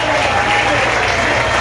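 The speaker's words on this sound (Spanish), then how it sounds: "¡Fuertes los aplausos!" Applause from a crowd at a bass (robalo) fishing tournament award ceremony in Catazaja, Chiapas, a short burst of dense clapping with a voice speaking over it.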